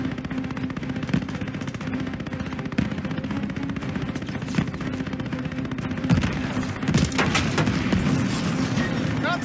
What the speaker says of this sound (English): Watch that tracer fire.